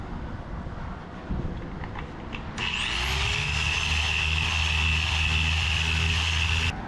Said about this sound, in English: I'm going to start sanding it and then compound, polish, and wax.